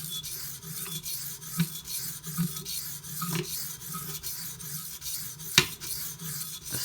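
A knife held in a Hapstone T1 clamp is sharpened on a Naniwa Pro 400 whetstone, close rhythmic rasping strokes repeating about once a second, with a sharper scrape near the end.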